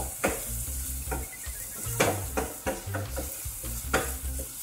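Onions sizzle in a frying pan while a utensil stirs and scrapes them in irregular bursts, a steady close hiss with clinks and no talk.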